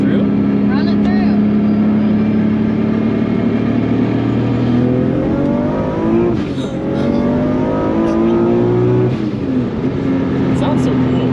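A Nissan R32 GTR with an Ultimate Response build accelerates hard through third gear, its engine note rising steadily and loudly from inside the car, with occupants talking over the pull.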